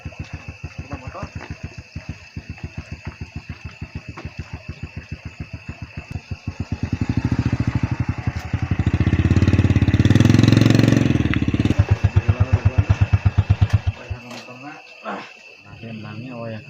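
A motorcycle engine putters with rapid regular pulses, swelling louder midway as it revs, then settling back, with a steady high insect-like whine in the background.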